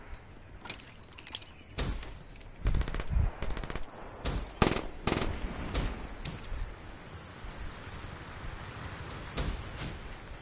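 Call of Duty gunfire plays in quick bursts of sharp shots, some rapid like automatic fire and others single, fairly faint overall, with a steady hiss underneath.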